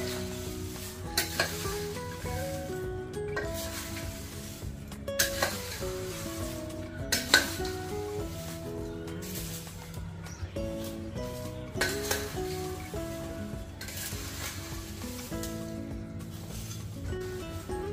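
Fried poha chivda tossed slowly with cashews, curry leaves and spices in a pan, soft scraping stirs and light clinks of a spoon against metal over a continuous low sizzle, with music playing in the background.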